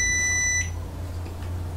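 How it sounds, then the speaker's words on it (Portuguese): A single high electronic beep from a multimeter continuity tester, sounding as a phase conductor is tested against the neutral in a 127 V single-phase installation, lasts about half a second, then cuts off, leaving a low hum. "Esse condutor aqui bipou com condutor de neutro."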